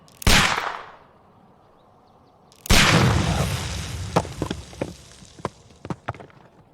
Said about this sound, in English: Do you have your pistol? Good. Fire at this package.